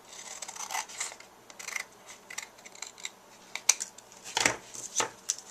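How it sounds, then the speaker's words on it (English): Scissors snip through excess cardstock while a red scalloped greeting card is trimmed, giving a series of short crisp cuts and rustles of paper, close and fairly quiet, with no talking. "And then we'll just cut off this excess here. Okay. And I'm just using a scissor"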